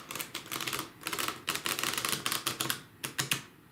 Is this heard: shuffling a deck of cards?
yes